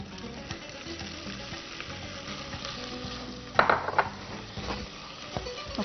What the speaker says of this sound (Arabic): بص انا هنزل هنا كده بالبصل